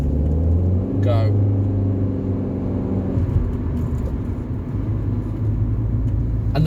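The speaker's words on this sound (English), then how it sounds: "That is the sound you only get in a CVT." A Rover 45 with a CVT gearbox accelerates from inside the cabin, its steady engine drone and rising whir running continuously under road rumble as a passenger talks over it.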